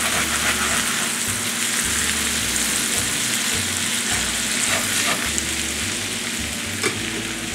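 Potatoes and onions fry in an uncovered skillet with a loud, steady sizzle, and a utensil scrapes the bottom of the pan in repeated strokes under the continuous crackle.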